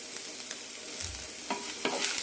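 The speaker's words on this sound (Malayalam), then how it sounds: "നന്നായി വഴറ്റാം" Onions with salt being sautéed in a pan: a soft hiss of frying under brisk scraping spoon strokes, with a couple of louder scrapes near the end, close and without talk.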